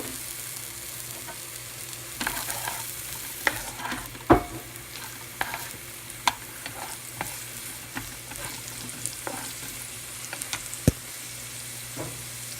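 Chopped onions sizzle in a thin layer of olive oil in a skillet, a steady frying hiss broken by scattered clicks and scrapes of a utensil stirring the pan.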